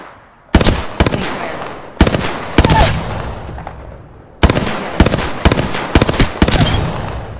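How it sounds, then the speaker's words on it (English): Enemy gunfire in the shooter game Apex Legends, loud, close bursts of rapid automatic fire in several volleys separated by brief pauses, with sharp repeated cracks and no talking. "The enemies are shooting at me"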